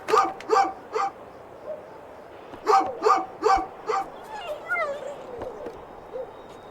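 A dog in the video game A Juggler's Tale barks in a quick run of sharp yips, followed by softer bow-wows, over a faint musical background with some talk.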